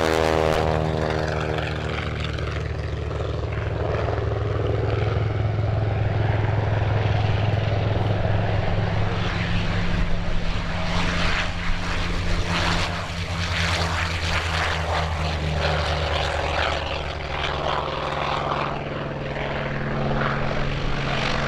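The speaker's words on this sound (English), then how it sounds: "Wings of the North's own TBM-3 Avenger and F4U-4 Corsair, along with the Dakota Territory Air Museum's FM-2P Wildcat." Vintage warbirds, a TBM-3 Avenger, an F4U-4 Corsair and an FM-2P Wildcat, fly together at an air expo, their piston propeller engines producing a loud, continuous, overlapping roar that swells slightly midway.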